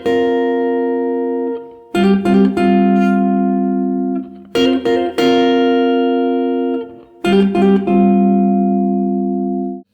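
Four bars of a song's outro on guitar: bright struck chords and quick hammered notes in three clustered phrases, each left to ring and sustain, played close and clear with no talking.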